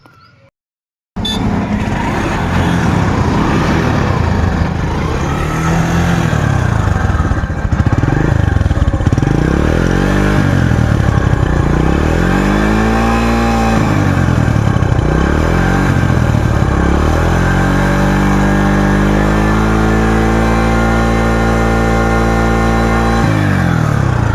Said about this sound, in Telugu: ఇంజన్ స్టార్ట్ చేసి పెడుతున్నాను మీరు అయితే మొత్తం ఇంజన్ సౌండ్ అనేది పూర్తిగా చూడండి